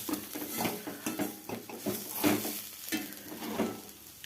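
Cabbage thoran with onion is stirred and sautéed in a pan, a spatula scraping and tapping in uneven rhythmic strokes over a soft sizzle, close and fairly quiet.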